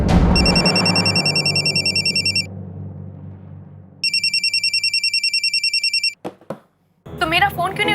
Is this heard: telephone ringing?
yes